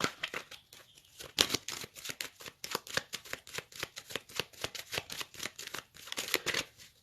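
A deck of cards being cut and shuffled close up, with a rapid, steady run of crisp riffling flutters lasting several seconds and almost no talk.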